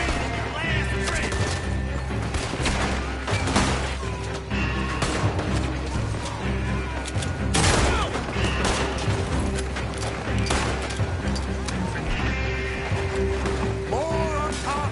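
Gunfire in Red Dead Redemption 2 during a shootout, with rapid overlapping shots and booms in a dense, loud barrage, mixed with game music and character voices shouting throughout.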